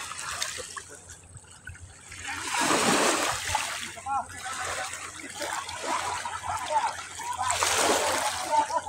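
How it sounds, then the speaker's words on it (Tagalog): A strong current flows near fishermen at Ilijan, Batangas, with close splashing and sloshing water that swells in surges, while voices talk over it. "Malakas na pala ang agos."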